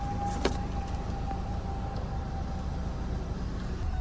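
A Mercedes CLS550 is towed after sitting unused for seven years, giving a steady, moderate rolling vehicle rumble with a thin continuous whine and a brief clink near the start.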